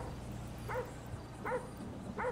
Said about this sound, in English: Lester have a dog?